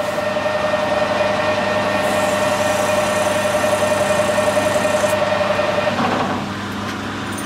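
A metal lathe runs steadily while machining a small brake bleed valve, giving a constant close hum with a thin whine. It drops to a lower, quieter drone near the end.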